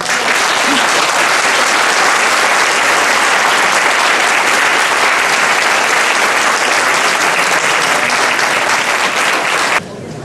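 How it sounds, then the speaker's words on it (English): Sustained, loud applause from a meeting audience honoring township trustee candidates, a dense steady wash of clapping lasting about ten seconds before cutting off abruptly. "if we could give them an applause"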